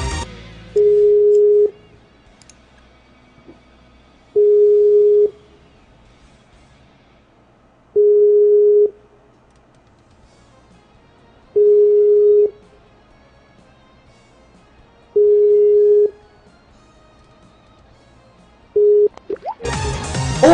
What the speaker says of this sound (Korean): 어, 전화 안 받으시는데, 3초 전화 안 받으시는데?